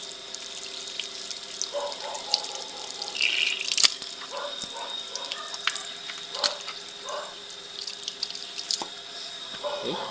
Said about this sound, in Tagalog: Gripo din dito.